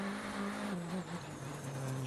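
A rally car competing on an asphalt stage of the SATA Rallye Açores, its engine note dipping and rising as it changes gear, heard quietly and steadily from on board without talk.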